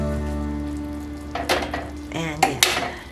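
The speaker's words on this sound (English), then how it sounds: "I added the ground beef back in, stirred it together. It's simmering right now." Ground beef and sweet potatoes simmer in a pan with a soft, steady sizzle, joined partway through by a few close scrapes and clinks of stirring.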